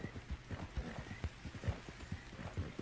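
Horse hooves clip-clopping in a steady riding rhythm in the video game Red Dead Online, moderately close, with a faint whinny-like tone in the background.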